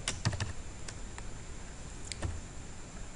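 Keys tap on a computer keyboard in a short, irregular burst, a handful of close, crisp clicks and ticks, with quieter gaps between them.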